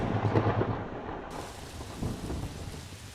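A lightning strike with thunder in a Songbringer video game cutscene: a loud crackling burst that cuts off abruptly, then a lower rolling rumble with rain-like hiss.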